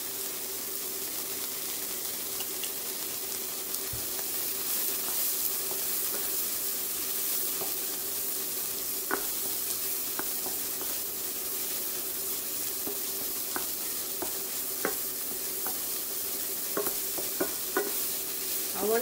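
Garlic frying in a pan for Moroccan flatbread, a continuous bright sizzle close up with a steady hum and occasional sharp taps and scrapes of stirring, no talk.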